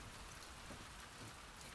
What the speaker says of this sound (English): Oh, especially the way the rain's falling.